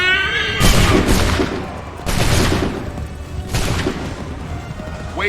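Massed musket volleys fire in the Assassin's Creed III video game: three loud, crackling bursts about a second and a half apart, each followed by a rolling echo.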